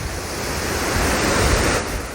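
Ocean waves roll and curl below a third-floor patio, a broad, steady wash of surf with a soft swell and rumble, mixed with wind noise and no voices.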